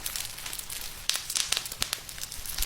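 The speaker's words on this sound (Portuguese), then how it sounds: "Pra fazer o som das fogueiras em Roblox, não gravaram fogo real. Só apertaram plástico bolha e o som ficou perfeito." Campfire crackle for Roblox, actually made by squeezing bubble wrap: a dense run of close, sharp pops and crinkles, sparse at first and then bursting in irregular louder snaps.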